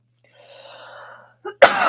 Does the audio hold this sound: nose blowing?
yes